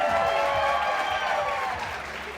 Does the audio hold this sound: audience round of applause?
yes